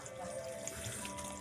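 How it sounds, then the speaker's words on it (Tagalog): Fresh water poured into a cooking dish to make broth, a short steady splashing pour heard up close and fairly faint. "Tapos sasabawan ko na siya trop ng tubig"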